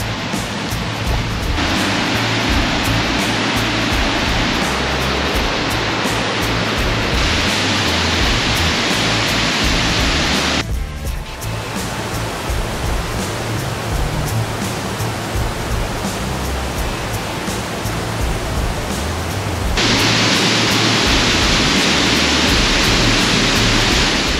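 A loud, constant roar of a waterfall in Arapoti, Paraná, crashing nearby, broad and hissing without pause for the whole stretch.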